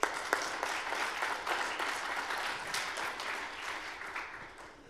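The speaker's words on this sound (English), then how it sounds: "So let's give them a round of applause." Audience applause at a coding school demo day, a sustained wash of many hands clapping at moderate level that tapers toward the end, with no talk over it.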